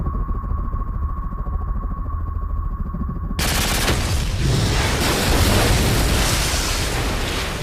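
Mines exploding during a Call of Duty: Modern Warfare 3 match on Wii: a sudden loud blast about halfway through erupts into a sustained, rumbling roar of explosions and gunfire-like crackle that continues to the end.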